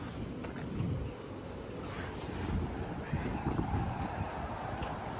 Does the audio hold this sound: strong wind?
yes